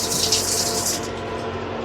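Steady rush of running water from a tap in a Vande Bharat Express train washroom for about a second, then a quieter broadband hiss continues to the end.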